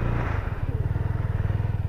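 A 2017 KTM RC 125 motorcycle idling just after starting, a close, rapid, evenly pulsing single-cylinder putter holding steady for a couple of seconds.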